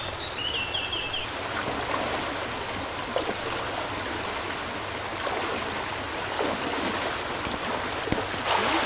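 Rising stream water rushing along a rainy hill trail near a waterfall, a steady close broadband roar of flowing water with a faint repeated insect-like chirp above it.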